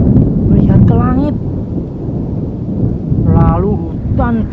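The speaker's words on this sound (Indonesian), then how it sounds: "Lalu hutan dilanda badai yang sangat dahsyat." A forest storm sound effect with rumbling thunder, rain and gusting wind, loud and continuous, while a voice speaks over it.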